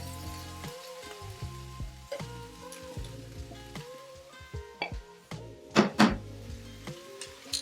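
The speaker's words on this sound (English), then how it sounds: "now we're going to add the onions, celery and carrots" Onions, celery and carrots sizzle in a Ninja Foodi pot while making beef stew, a steady crackling fry with a few sharper spatters and metallic clinks, close and moderately loud, with background music playing throughout.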